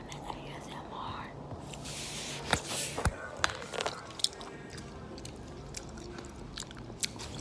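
Eating and chewing during a mukbang: close, wet bites and crunchy chews come in scattered bursts over a quiet room tone, with soft whispery voice sounds.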